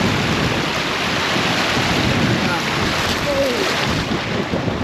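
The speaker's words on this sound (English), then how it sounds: "super windy" Strong wind buffets the microphone on a hiking trail in Gros Morne, Newfoundland, in a steady, loud roar that holds for several seconds, with no pauses or letup.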